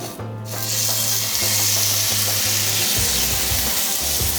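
A Wagyu steak sizzles loudly on a cast iron griddle, a sudden burst of bright crackling frying that holds steady and close, with a low hum beneath and no talk.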